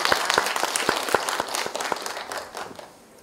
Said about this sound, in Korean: 김희숙 교육장님께 다시 한번 큰 박수